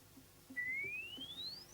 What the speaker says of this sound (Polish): Ten krótki gwizd umożliwia zbadanie czterech parametrów